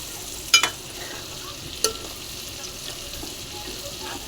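Boiled eggs fry and get stirred in a pan, with a steady soft sizzle underneath and a few sharp scraping clicks from the stirring utensil, no voices.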